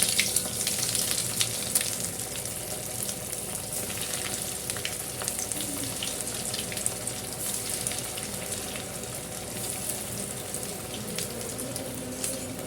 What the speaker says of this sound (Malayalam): നമുക്കിനി ഇതൊന്ന് ഫ്രൈ ചെയ്തെടുക്കാം കേട്ടോ.